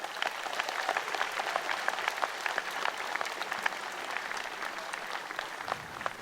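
Audience applause at a League of Legends esports opening event in Poland, a sustained, even roar of many hands clapping in a large hall with no voices heard over it.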